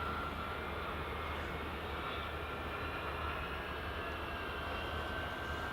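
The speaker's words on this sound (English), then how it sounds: "Looks like another EasyJet." An EasyJet airliner on final approach to Edinburgh Airport gives a faint, steady distant jet rumble and whine, constant throughout with no talk.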